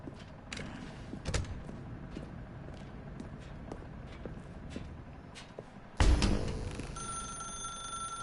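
In the Stanley Parable Ultra Deluxe video game, steady footsteps tap along before a telephone suddenly rings loudly and close, its bright tone lingering to the end.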